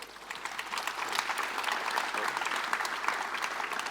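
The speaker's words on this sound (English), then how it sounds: "Round of applause." A conference audience at an agriculture technology event applauds a panel, a broad, continuous wash of clapping that swells slightly and holds steady throughout, with no voices standing out.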